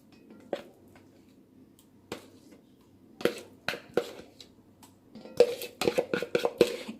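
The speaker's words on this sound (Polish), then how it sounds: "wszystkie składniki ze sobą po prostu mieszamy. Mieszamy już, nie blendujemy, tylko dobrze mieszamy." Oat cookie dough with banana being mixed in a bowl, heard as sparse sharp utensil knocks at first that grow into quicker clustered clinks and scrapes near the end.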